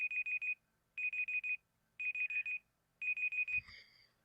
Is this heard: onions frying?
no